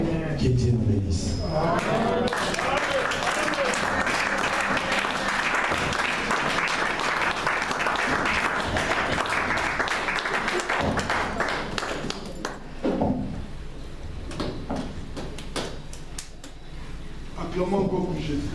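A church congregation claps loudly together for a long, sustained stretch of applause, thinning briefly near the end before picking up again, with voices mixed in.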